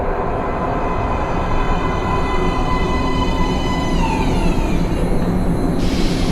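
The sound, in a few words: train arriving at metro platform, from Metro: Last Light video game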